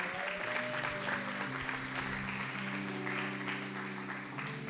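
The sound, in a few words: audience applauding the pastor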